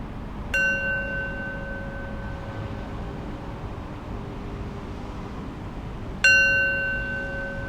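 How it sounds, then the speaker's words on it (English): A meditation bell closes a mindfulness practice, struck twice several seconds apart, each strike ringing out clearly and then slowly fading into quiet room tone. "I'll close practice with 3 rings of the bell"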